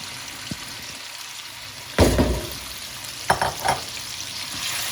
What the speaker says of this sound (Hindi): अब मैं इसको इसमें डालूंगी एहतियात के साथ, क्योंकि घी के छींटे भी पड़ने का खतरा होता है।